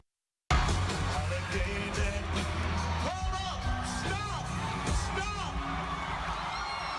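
A concert crowd at Buckeye Country Superfest roars and whoops wildly for several seconds, sustained and loud, with a few bangs and a voice speaking over the cheering.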